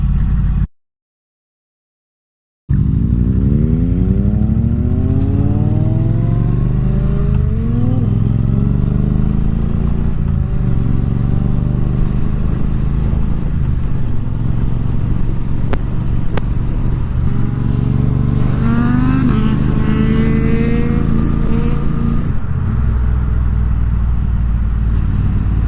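A Triumph Bobber Black motorcycle ridden on country backroads, its engine droning loud and steady while it shifts through gears and rises and falls in pitch, with constant wind rush over the whole ride after a brief cut to silence.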